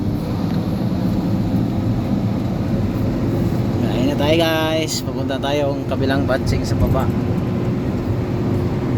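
A cement mixer truck's engine drones steadily at close range, a constant low rumble that persists throughout while someone talks over it.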